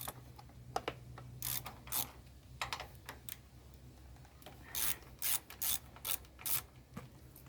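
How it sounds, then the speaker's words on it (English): A Pittsburgh ratchet from Harbor Freight loosening 12 mm bolts on a 2019 Kawasaki Vulcan Classic LT motorcycle, a series of quiet rasping clicks in short bursts, near and alone, with no talking. "This ratchet here is a Pittsburgh Harbor Freight, and it's actually a pretty good ratchet."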